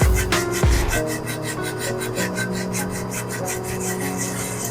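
Sandpaper rubs over a cement Buddha statue in steady, rhythmic back-and-forth strokes. The close rasping runs continuously after a couple of initial knocks.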